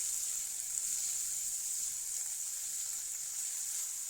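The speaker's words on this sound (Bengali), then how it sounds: "এবার নেড়ে চেড়ে ভেজে নেব সবগুলো একসঙ্গে" Ground ash gourd peel fried with salt and turmeric hisses in a soft, even sizzle that stays steady and fairly faint, with no talking.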